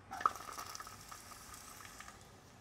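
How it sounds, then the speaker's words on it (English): Onions sautéing in olive oil in a pan give a steady, soft sizzle with a few light clicks near the start. The sound stays fairly quiet and even throughout, with no talking. "So now I'm gonna saute the onions."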